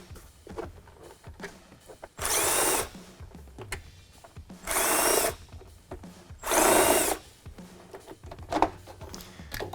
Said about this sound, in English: Then we can grab a 7mm socket and pull our mounting screws.